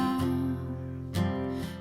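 Acoustic guitar playing the bridge of a song, with sustained strummed chords and two sharp strums marking chord changes, close and clear, with no voice.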